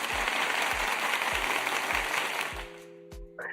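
Applause from a church audience, a dense wash of many hands clapping loudly and steadily for a few seconds, then thinning out and fading with a few last scattered claps.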